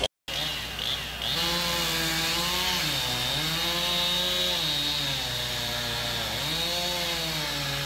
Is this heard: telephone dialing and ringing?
no